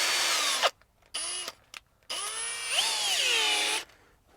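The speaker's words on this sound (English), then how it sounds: "I can put a hole through there just to mark my position." Close, loud whine of a power drill boring a hole in a Toyota LandCruiser 300 Series panel, several bursts that rise and dip in pitch, split by short pauses.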